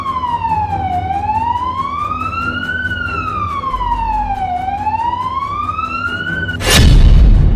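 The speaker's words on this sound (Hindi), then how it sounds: "सायरन की चीखती आवाजों वाले शहर मॉस्को में दहल रहे लोगों की" Air raid sirens wail over Moscow during attacks on Russian cities in the Russia-Ukraine war, a single loud tone rising and falling in slow sweeping cycles, then cut by a sudden heavy boom near the end.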